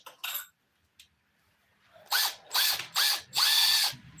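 A power drill, apparently straining, whirs once briefly, then after a quiet pause runs in four short, close, loud bursts in quick succession.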